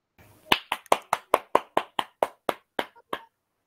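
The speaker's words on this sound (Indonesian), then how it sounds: "Ayo berikan aplaus buat mereka berdua." Applause in a classroom: about a dozen sharp, evenly spaced claps ring out close and loud, slowing slightly toward the end, with no talking over them.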